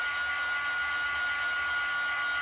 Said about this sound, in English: I use my embossing gun for everything. We'll put just a little bit of heat on it and see what it does.